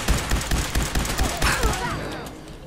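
Rapid bursts of gunfire from the video game Fallout 4 crack out in a dense volley, a string of loud repeated shots over about two seconds that then fade into a lingering tail.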